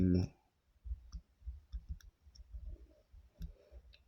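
A lock pick works the pins of a Paclock PL410PRO padlock, giving a quick series of tiny close metallic clicks in irregular rhythm after a brief louder knock at the start.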